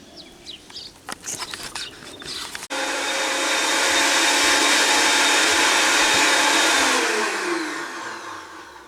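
After a few clicks and knocks, a blender making green juice with plantain leaves roars to life, a loud steady whir that runs for several seconds before starting to wind down.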